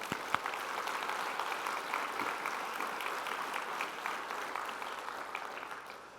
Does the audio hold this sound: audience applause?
yes